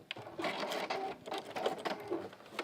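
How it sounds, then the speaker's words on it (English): Sewing machine stitching through cork fabric, close and moderately loud, a fast mechanical chatter in short bursts with brief pauses between runs. "this cork is brilliant, it does sew through it really easily"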